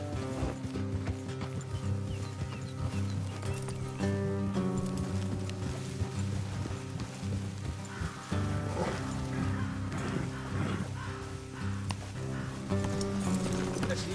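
In Red Dead Redemption 2, horses' hooves clip-clop at a steady walking pace beneath continuous game music and a low ambient drone, with no talking.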